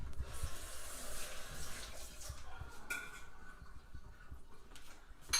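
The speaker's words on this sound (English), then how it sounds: "I'm going to rinse my hands real quick." Hands rinsed under a running kitchen tap, a continuous splashing stream of water, close and steady, with a brief louder splash near the end and no speech.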